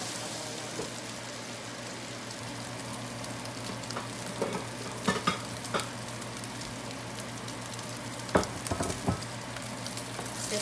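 Mung beans stirred and dry-toasting in a pan give a soft, steady sizzle with scattered scraping taps from the utensil, a few louder clinks near the middle and end, and no talk over it.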